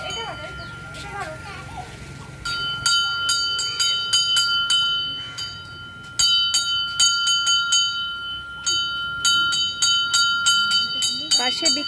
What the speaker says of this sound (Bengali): তুমি ঘন্টা বাজিয়ে দাও, ঘন্টা